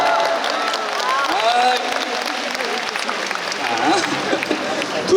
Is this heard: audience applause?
yes